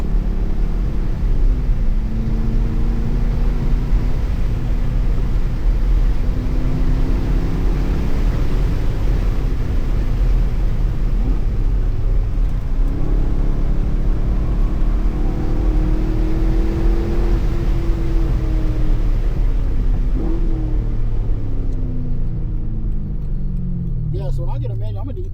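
A C5 Corvette is driven with heel-toe downshifts, its V8 droning loudly from inside the cabin, rising and falling through revs with blips between gears. Occupants talk over the engine.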